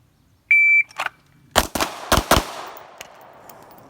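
Gunfire during a shooting exercise: a short electronic timer beep, then a string of about five sharp, loud shots in quick succession with ringing tails that fade into the open air.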